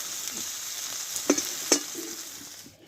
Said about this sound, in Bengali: ঢেঁড়সটা কিন্তু আমি ভালোভাবে কষিয়ে নিয়েছি দেখো কালারটা চেঞ্জ হয়ে গেছে